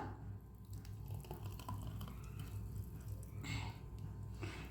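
A blended oats drink with flaxseed pours into a glass, a soft continuous liquid stream with faint splashing and gurgles, quiet and close throughout.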